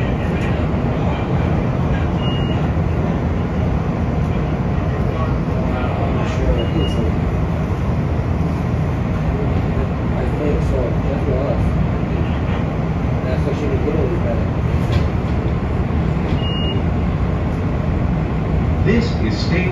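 A CTA Orange Line train in Chicago, riding between Roosevelt and Halsted through the Loop, rumbles loudly and steadily from inside the car for the full stretch, with only faint higher clicks breaking through.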